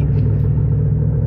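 Low grinding rumble from bad front differential bearings on a vehicle driven fast, a steady dense roar of road and drivetrain noise heard from inside, loud and continuous without talk.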